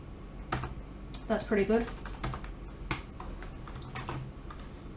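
A few sparse keystrokes tap on a computer keyboard, soft close clicks spread across a quiet room as a value is typed in, while a voice speaks briefly between them.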